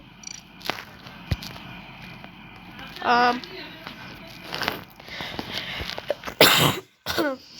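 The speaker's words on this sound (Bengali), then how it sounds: "কাশিও হয়।" Coughing over an online Among Us game voice chat: a few short, sharp bursts spread out amid faint background talk and small clicks.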